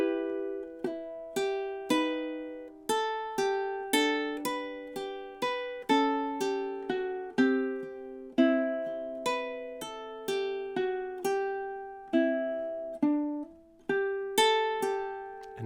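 A solo ukulele picks the chorus melody of a song, clear plucked notes and strummed chords in a steady rhythm, close and moderately loud with no voices.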